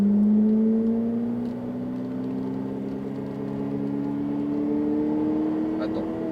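A Ferrari F8 twin-turbo engine pulls steadily while driving on track at Le Mans, its tone rising slowly through the gear. It is fairly loud and continuous, with a coach's voice faintly under it.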